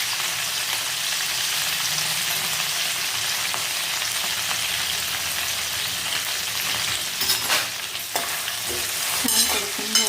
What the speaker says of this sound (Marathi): छान परतून घ्यायचं आहे.